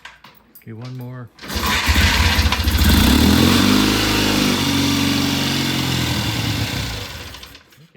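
A vintage British motorcycle fires up on its first start after brief talk, the engine catching with a rough, throaty roar that swells, holds loud and close for several seconds, then dies away.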